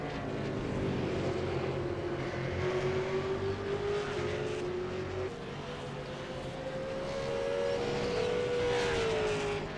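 V8 Supercars race cars battle for eighth place on track, engines droning loud and close with rising and falling whines as they pass, a continuous roar filling the whole stretch.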